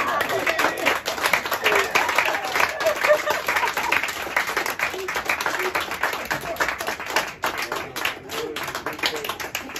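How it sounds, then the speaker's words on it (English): Comedy-club audience applauding a headlining comedian's joke in Luxembourg, a sustained, even wash of many hands clapping with some cheering, steady throughout at moderate loudness. "that was a good applause."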